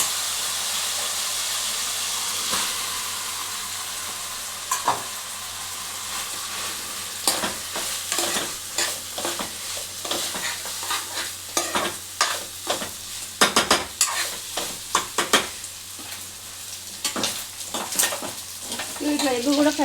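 Egg fried rice, Schezwan street style, tossed and stirred in a hot pan, continuous loud sizzle under repeated rhythmic scraping strokes of a spatula that quicken toward the end, no talking.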